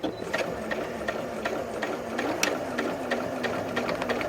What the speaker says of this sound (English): So the key is start stitching.